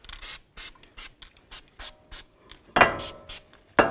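Copper anti-seize sprayed from an aerosol can onto the axle splines during a front wheel hub replacement on an 08-18 Chrysler Town & Country: repeated short hissing bursts in a steady rhythm, then two longer, louder blasts near the end.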